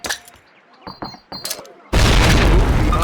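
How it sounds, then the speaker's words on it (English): A frag grenade blast in the 2003 Call of Duty training level: scattered small game noises first, then a sudden loud, sustained booming roar of explosion filling the last second and more. "Throw a grenade into each of the openings before you"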